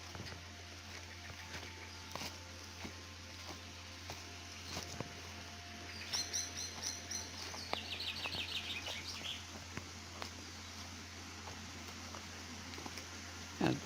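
Birds chirp and call faintly in a Norwegian forest, with brief high twittering bursts in the middle against a steady low background hum and occasional soft taps.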